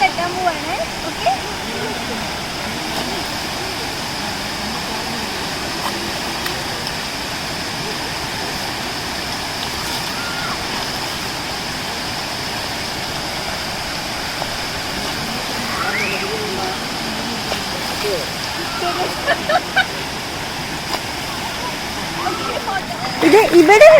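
Dhoni waterfalls in Palakkad, Kerala, pour as a steady broadband rush of falling water, with people talking nearby over it.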